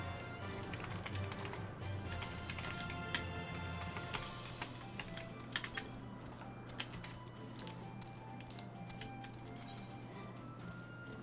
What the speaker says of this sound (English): Sorry, I was typing while I'm running.